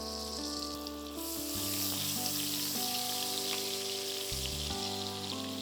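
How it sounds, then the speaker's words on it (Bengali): Butter and oil sizzle steadily as they heat in a pan for a Bengali fish stew, a close, constant frying hiss with a steady tonal hum underneath. "এবার মাখনটা আর তেলটা গরম হচ্ছে"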